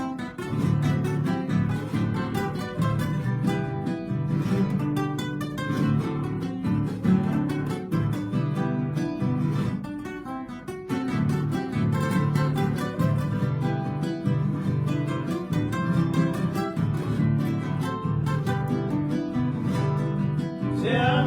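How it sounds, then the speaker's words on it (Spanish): A lively Paraguayan polka song with dense instrumental accompaniment and a steady bouncing rhythm, playing continuously at moderate volume. "la primera polca paraguaya según dicen que figura en el registro"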